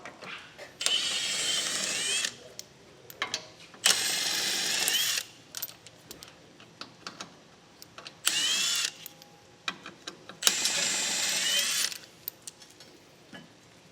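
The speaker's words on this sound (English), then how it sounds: "So next we're going to remove these 3 18mm bolts from this bracket." A ratchet backs out 18mm bolts from a car bumper bracket on a 2016 Chevrolet, coming in four bursts of rapid clicking separated by quiet pauses with small metallic knocks, close up and with no talk.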